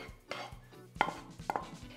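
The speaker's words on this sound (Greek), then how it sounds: "Προσθέτω τα κρεμμύδια που είχα σοτάρει," A few soft clinks and scrapes from sautéed onions being tipped into a large bowl of drained tomatoes for a Greek tomato pie, quiet and close, with two sharper knocks near the end.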